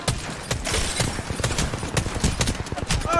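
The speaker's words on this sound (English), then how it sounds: "Some bloke just shooting at me." Rapid gunfire in the shooter game Apex Legends, a dense run of sharp close shots in quick bursts that fills the whole stretch with barely a pause.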